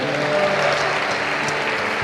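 A church congregation applauds for the Holy Spirit during a sermon, a steady dense wash of clapping filling the space with no voices standing out.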